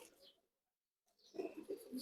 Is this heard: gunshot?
no